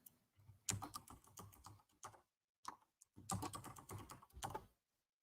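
Rapid clicking keystrokes on a computer keyboard come in two bursts separated by a brief pause, close and fairly quiet.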